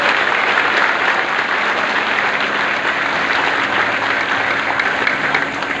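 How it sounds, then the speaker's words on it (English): Graduation audience giving parents a warm, sustained round of applause, a dense and loud wall of clapping from many hands that holds steady for several seconds with no talk. "let us give our dear parents a resounding warm round of applause"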